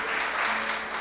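A church congregation at a service held in a garage breaks into a brief, dense burst of clapping, loud and close, lasting about a second.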